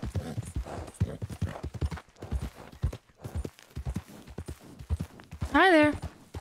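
Horse hooves clip-clopping at a walk in the Red Dead Redemption 2 video game, a steady rhythmic patter under ongoing talk, with a short horse whinny near the end.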